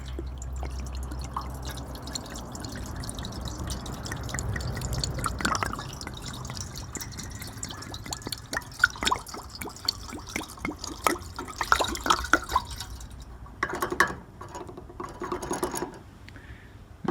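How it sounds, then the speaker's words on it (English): Coolant concentrate poured into the radiator of a Ford Model T, a soft, faint trickle and splash of liquid with scattered drips and light scraping, close up and with no talk. "We'll add the concentrate into the radiator, like so."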